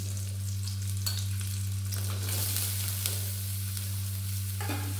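Garlic, ginger and onion frying in a pan, giving a steady loud sizzle with a soft low hum underneath and occasional light scraping, continuous throughout with no voices.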